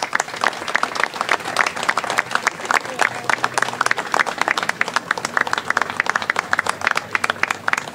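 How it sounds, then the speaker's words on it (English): Sustained applause from a crowd, dense clapping that continues steadily for several seconds at moderate volume. "big round of applause?"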